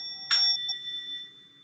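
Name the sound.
singing bowl being struck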